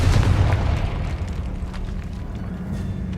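A Confringo fire spell bursts in the Hogwarts Legacy video game, a loud booming explosion at the start that rumbles and decays into a low, sustained roar with scattered crackles.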